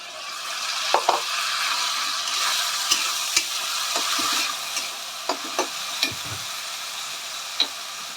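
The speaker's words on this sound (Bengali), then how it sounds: "পেঁয়াজ ভাজা হয়ে হয়ে এসছে এবার আমি এর মধ্যে একটু রসুন বাটা আদা বাটা একটা লঙ্কা বাটা দিয়ে দিলাম" Onions with garlic, ginger and chili paste sizzle steadily in hot oil while a utensil stirs and scrapes the pan, with light taps now and then, close and continuous.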